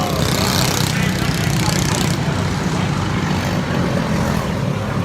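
Racing karts, including Praga karts, run on a track during a 24-hour endurance kart race in Orlando, giving a loud, continuous engine buzz throughout while a voice talks over it.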